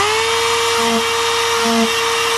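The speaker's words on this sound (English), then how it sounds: "what we're gonna do is use this Dremel to slowly start trimming up the corner here" A Dremel rotary tool whines steadily while trimming the corner of a plastic car headlight, loud and close, with two brief lower grinding pulses as the bit bites.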